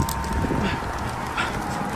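A dog whimpers and pants close by during rain, with a steady background hiss of light rain running throughout.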